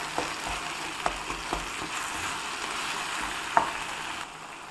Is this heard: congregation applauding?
no